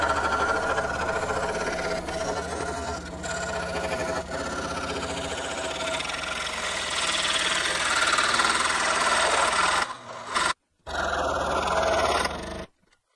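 Central Electric scroll saw from Harbor Freight cutting wood with a number 5 blade, a steady close mechanical buzz running for about ten seconds before briefly cutting out, then resuming and stopping.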